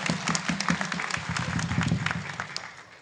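An audience at a spiritual gathering claps in a brief burst of fairly quiet, dense applause that fades toward the end.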